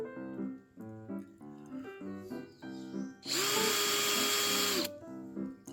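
A power drill bores into pre-treated lumber in one sustained, loud burst of about a second and a half, its motor pitch steady, after a stretch of quieter sounds.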